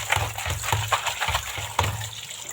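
Fresh hilsa fish being rinsed by hand in water, with repeated soft splashes and sloshing in a steady rhythm, close and moderately quiet, no talking.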